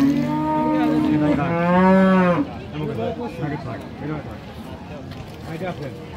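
Friesian cows at a cattle market in Tangail, one long loud moo up close followed by a crowd of people talking and general market chatter.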